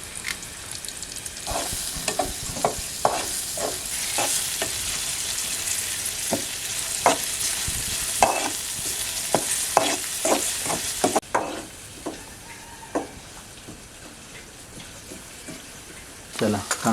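Chopped onions sizzle loudly in a pan during village cooking of a wild banana-stem vegetable dish. Frequent sharp scrapes and clinks of stirring break up the continuous frying hiss, which drops quieter near the end, with no talking.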